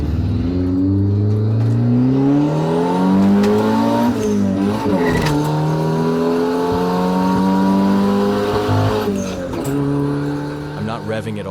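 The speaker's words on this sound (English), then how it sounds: "I'm not revving it all the way to redline, but even so, in second gear, the tires break loose just a little." A revived turbo Honda Civic engine revs hard and steadily through second gear, climbing in pitch with brief shifts and some tire squeal, while a person talks over the continuous drone.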